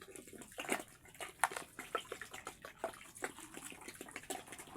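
Water is poured over vegetables to soak them, with faint, irregular splashing and trickling in quick uneven bursts.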